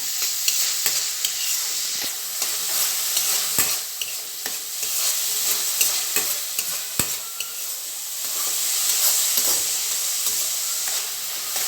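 Ginger, green chili and tomato fry in a pan for a Mangalore-style mackerel pulimunchi, a loud, steady sizzle with frequent scraping stirs and clicks throughout, with no talking.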